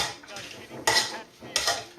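Cooking pot of mashed root vegetables being worked with a masher, giving two distinct clattering metallic scrapes and knocks against the pot over a quiet background.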